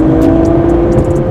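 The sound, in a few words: Ferrari 296 V6 sports car accelerating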